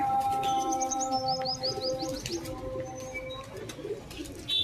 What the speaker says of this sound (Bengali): অনেকগুলো কবুতর আছে।